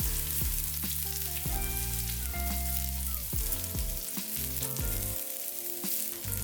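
Diced onions sizzle and crackle steadily in a hot pan for chili paneer, a continuous close frying hiss running under background music throughout.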